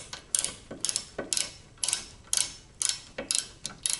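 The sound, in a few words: 10mm socket wrench ratcheting on Miata rear brake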